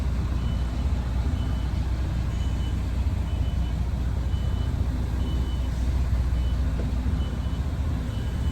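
A delivery truck reverses slowly, its steady engine rumble and road noise filling the cab while a faint reversing beep repeats at regular intervals in the background.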